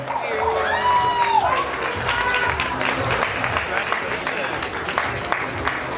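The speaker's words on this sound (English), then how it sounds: "Give her a round of applause." A crowd at a Los Angeles ballroom ball applauds and cheers at an award presentation, dense clapping with whoops and shouted voices, loud and sustained, while people talk over it.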